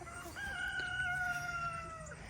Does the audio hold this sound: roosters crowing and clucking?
yes